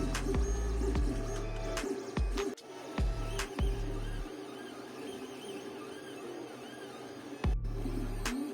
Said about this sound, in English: First, we print all the parts. We use PLA material for the orange and the red parts, while the white parts we use PETG.